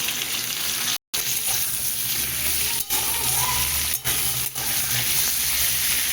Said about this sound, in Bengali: পটল আলুটা বেশ ভাজা হয়ে এসেছে